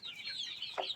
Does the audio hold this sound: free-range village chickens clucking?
yes